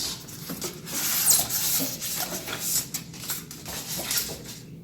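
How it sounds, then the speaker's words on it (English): A stainless steel basket being lifted out of an Instant Pot Vortex air fryer during unboxing, with continuous metallic clattering and rubbing close by, moderately loud and with no talk. "which reveals this stainless steel basket inside. Let's remove that."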